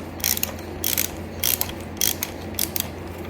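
Ratchet clicking in short bursts while loosening a shock absorber bolt on a 1971 Yamaha RT1B 360 motorcycle, six quick close ratcheting strokes separated by brief pauses.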